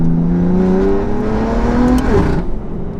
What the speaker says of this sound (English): this exhaust is very, very loud